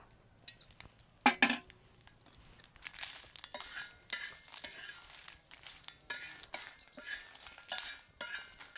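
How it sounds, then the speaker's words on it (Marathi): Green chillies roasting in oil in a home kitchen pan, heard as soft sizzling with scattered clinks and scrapes of a utensil against metal, fairly faint and close, with no talking. "आता मिरच्या भाजून घेतो, तेल टाकतो"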